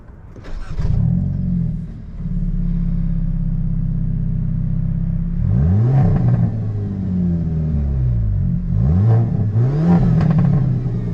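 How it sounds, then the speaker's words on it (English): A 2023 Hyundai Elantra N pulls away hard, its engine and exhaust droning loud and close through a long rising run, then several sharp rev swells and gear changes near the end, with no talk. "I really love the exhaust setup on this Elantra N"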